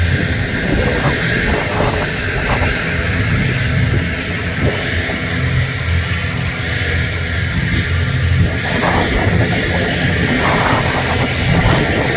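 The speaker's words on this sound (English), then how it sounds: "Emirates A380, the lunchtime arrival." An Emirates Airbus A380 jet airliner arriving at Manchester Airport rumbles steadily overhead with a broad, continuous engine roar that holds loud throughout, with no talking.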